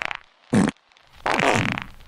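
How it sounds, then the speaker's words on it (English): Two separate fart sounds close to the mic: a short loud blast, a brief pause, then a longer, rougher, sputtering one that trails off. No one speaks. "Wow, multiple farts!"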